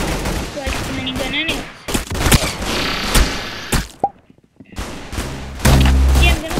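Minigun fire in an online shooter game: rapid bursts of gunfire broken by thuds and brief gaps, close and loud, with some game noise.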